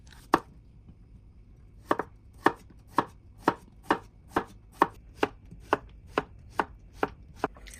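A knife slices a cucumber thin on a cutting board for a shrimp stir fry: about fifteen crisp, close chops in a steady rhythm after one early cut and a short pause, with no talking.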